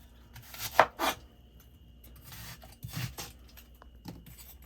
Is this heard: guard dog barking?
no